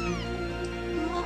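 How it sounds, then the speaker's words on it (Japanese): A stray cat that has just been brought indoors meows loudly and close in one drawn-out, wavering cry over a steady musical drone, with no talking. "ああ猫まで拾ってきて、私がどれほど猫嫌いかよく知ってるくせに"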